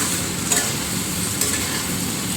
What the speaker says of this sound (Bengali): এরপরে ওর মধ্যে দিয়ে দেবো ভেজে রাখা আলুগুলো দিয়ে মাংসটাকে ভালোভাবে কষাতে হবে